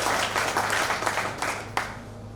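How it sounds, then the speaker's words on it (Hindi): An audience at an Indian village short-film launch and honours ceremony claps in a brisk, dense burst that thins and fades out after about two seconds, ending with a few scattered claps. "एक बार जोरदार तालियां।"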